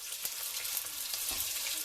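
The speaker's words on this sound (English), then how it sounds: "This is what we're looking for, you hear that? Nice sizzle, sizzle, sizzle, sizzle" Steady crackling sizzle of beef frying in a hot pan, loud and close, with a few sharper pops over the continuous hiss.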